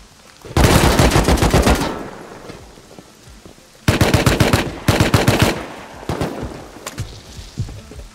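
Auto turret machine gun in Rust firing in long rapid bursts, loud and close, with a second sustained burst after a pause and fainter scattered shots trailing off.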